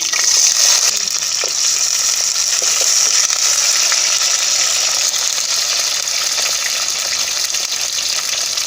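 Small onions fry loudly in hot oil with popped mustard seeds, curry leaves and chana dal for a cowpea and bottle gourd sambar, giving a dense, unbroken close-up sizzle throughout.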